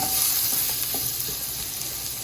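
Bacon drippings rendered from a pack of bacon sizzle in a pot, a dense continuous hiss with small pops, close and steady, with no voices.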